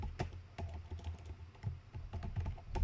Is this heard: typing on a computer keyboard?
yes